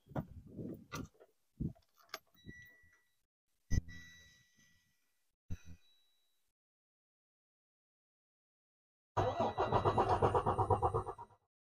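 A Freightliner Cascadia truck engine cranks after fuel priming in a steady, loud burst of starter grinding near the end. Scattered clunks and knocks come before it, and no voices are heard.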